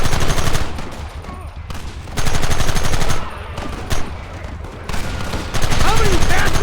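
Sustained rapid gunfire from the video game Red Dead Redemption during a battle, dense volleys of rifle and machine-gun shots rolling continuously with brief surges, loud and close.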